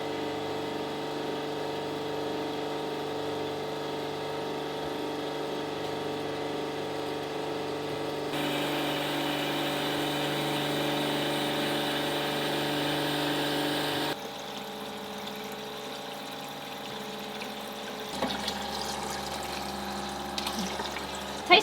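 A boat's watermaker pump hums steadily with water running into a sink, a continuous mechanical drone that shifts pitch partway through and continues alone without talk.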